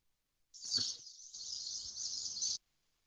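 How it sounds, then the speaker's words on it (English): A single high, sustained bird call rings in a forest, a bright steady whistle lasting about two seconds, clear and alone against near silence. "You hear birds chirping"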